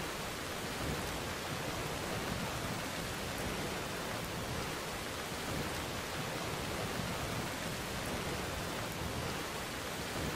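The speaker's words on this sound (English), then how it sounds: "There's some weird background noises with this rain." Steady dense rain in Skyrim Special Edition hisses loud and unbroken across the whole stretch, with a broad low rumble like thunder and wind blended underneath and no talk over it.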